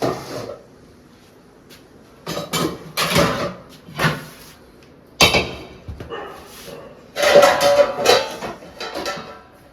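Pots and dishes left from breakfast are handled in a home kitchen, producing loud, close bursts of clattering, knocking and banging that come in uneven clumps separated by brief quiet gaps.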